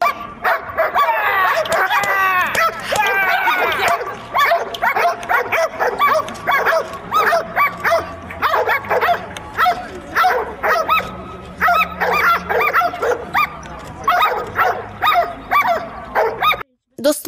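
Police dogs from a unit of seven bark repeatedly in quick, sharp volleys with some yips and whimpers, moderately close, under steady narration.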